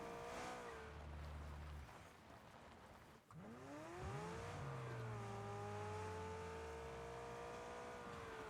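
A car drives in PUBG, its engine droning steadily, then dropping and revving back up to a rising, sustained whine.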